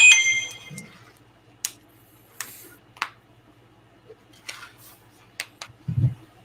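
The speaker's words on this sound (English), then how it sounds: "My phone is going off." A phone's notification sounds going off: scattered short dings and clicks at irregular intervals over a low steady hum, with a faint low thump near the end and no speech.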